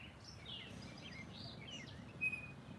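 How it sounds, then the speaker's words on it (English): Black songbird with a yellow breast sings a series of faint, distant chirping phrases over a quiet outdoor background. "Pretty bird. Black bird with a yellow breast."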